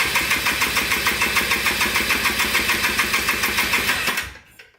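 Quad engine turning over on the starter with the throttle held open during a compression test, a steady rapid rhythmic chugging that runs loud and close for about four seconds, then cuts off abruptly.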